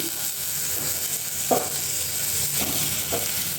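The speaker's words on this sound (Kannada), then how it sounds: "ಸ್ವಲ್ಪ ಸ್ವಲ್ಪ ಈರುಳ್ಳಿ ಫ್ರೈ ಆದಮೇಲೆ ಕಟ್ ಮಾಡಿ ಇಟ್ಕೊಂಡಿರೋ ಆ ಪಡ್ಲುಕಾಯಿ ಹಾಕೋತಾ ಇದ್ದೀನಿ" Chopped snake gourd frying with onions in a pan for a snake gourd and prawn sambar: a steady, close sizzle with a few soft spatula strokes and clinks, no voices.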